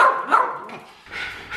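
Excited dogs barking and yipping close by before a walk to the beach, a quick burst of several barks and a whimper, loud and near.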